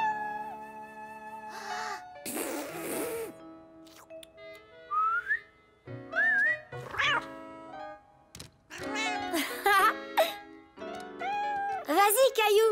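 A cartoon child tries to whistle, giving short wavering whistled tones and squeaky attempts between gaps, mixed with other voice sounds.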